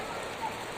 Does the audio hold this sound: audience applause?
no